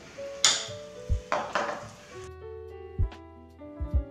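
Eggs whisked with ground oats and baking powder in a bowl: a utensil scrapes and clinks against the dish in a few sharp, close knocks with quieter stirring between, no voices.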